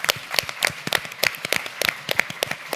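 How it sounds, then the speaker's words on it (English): Scattered hand claps from a small audience at a policy debate, applauding a panelist; sparse, uneven claps spread across the clip at moderate level, with no talking. "Give Matthew a round of applause, please."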